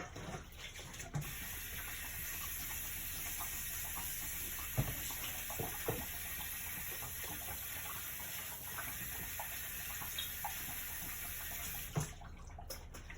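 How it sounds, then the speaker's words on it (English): A pastry brush being rinsed under a running kitchen tap, with a steady stream of water splashing and a few soft knocks near the sink. "while I wash my pastry brush"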